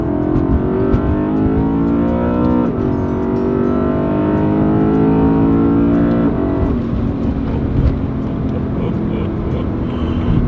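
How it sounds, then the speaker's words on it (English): A BMW E92 M3 with its naturally aspirated S65 V8 revs loudly and steadily up through the range, dropping briefly between pulls before climbing again, with a person talking over the engine. "This thing is a high revving V8, naturally aspirated, extremely fun to drive."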